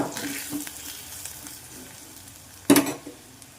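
Spices fry softly in oil in a pan for okra charu, a low steady sizzle broken by a sharp spoon clank against the pan near the end, with no speech.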